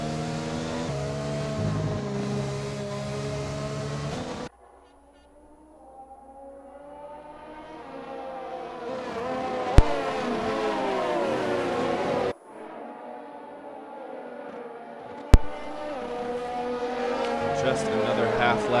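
Race-car engines in a racing video game during a formation lap at Belgium, with whining, harmonic engine tones rising and falling through gear changes and fading between passes while a commentator talks throughout.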